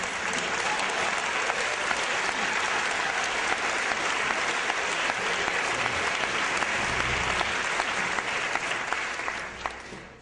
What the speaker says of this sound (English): Please give Professor Rubin a round of applause